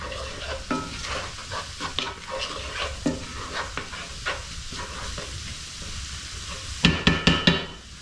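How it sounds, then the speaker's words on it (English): A spoon scrapes and stirs aji de gallina sauce thinned with chicken broth in a pan, with repeated scraping strokes over a soft simmering sizzle and a louder cluster of clattering strokes near the end. "Give this a stir."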